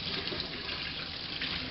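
Tap water runs steadily to rinse dirt out of the outer layers of cut leeks, a continuous close splashing hiss with no talking.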